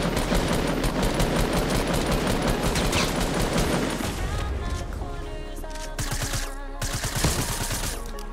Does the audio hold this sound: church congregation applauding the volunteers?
no